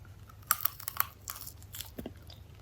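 A crunchy chorizo snack is chewed close to the mouth, giving a series of sharp crisp crunches and bites followed by softer chewing, with no talking.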